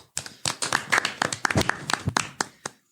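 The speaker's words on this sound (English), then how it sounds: "a round of applause" A short, close burst of hand clapping from a small group, a quick irregular patter of claps lasting a few seconds before cutting off.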